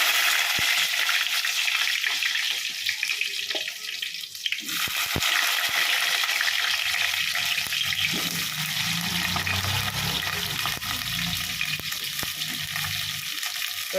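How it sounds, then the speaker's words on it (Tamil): Eggplant frying in oil makes a continuous hiss and sizzle with a few sharp clicks of stirring near the start, then a lower bubbling rumble joins in the second half, with no one talking. "கத்திரிக்காய் ஒரு முக்கால் பதத்துக்கு நல்லா வதங்கணும்"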